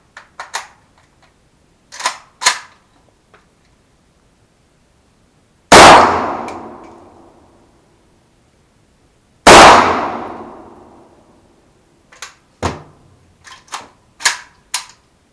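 7.62x39 rifle rounds hit a steel gong outdoors: sharp distant cracks, then two loud metallic clangs several seconds apart, each ringing out and slowly decaying, followed by more scattered shots.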